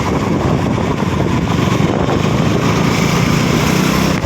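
A KTM Duke 200 motorcycle engine drones loud and steady while riding, a continuous close, buzzy roar with little change in pitch and no voices over it.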